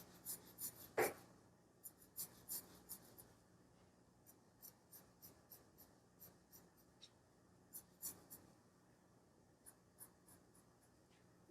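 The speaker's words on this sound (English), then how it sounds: "So we're going to draw a diagonal line" Quiet pencil strokes scratch across paper while a diagonal line is drawn in a beginner drawing exercise, a string of soft, short scrapes and taps repeating every second or so, close and faint with no talk.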